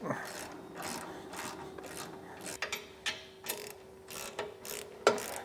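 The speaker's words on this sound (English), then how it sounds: "just going to snug them down with the ratchet" A ratchet fitted with a 3/4 inch socket clicks in quick repeated strokes as it snugs down the bolts on a B&W Patriot fifth-wheel trailer hitch head assembly, close and with no voices.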